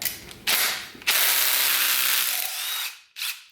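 Ratchet clicking steadily while rocker arms are pulled off a high-mileage LQ4 engine, a close, busy mechanical rattle with brief pauses near the start and a short final burst after a gap.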